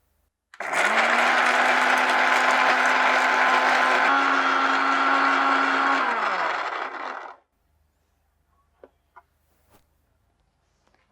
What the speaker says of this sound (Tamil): ஸோ இந்த ஜாரில் இருக்க இந்த இன்க்ரீடியன்ஸை அரைச்சி எடுத்துடலாம்.